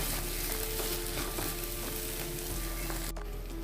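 Close, steady sizzle of fish roe frying with spices in a pan, stirred throughout, with faint scraping clicks over the continuous hiss.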